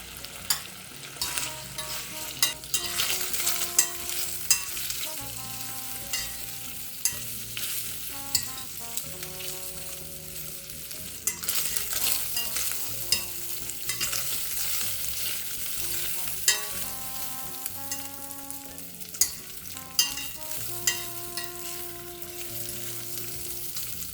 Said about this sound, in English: You want to add your sausage and cook, stirring frequently until sausage is lightly browned